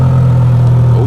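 A Mercedes S600 with a loud aftermarket exhaust, heard very close and loud as a deep, steady droning engine note held for about a second with no talk over it.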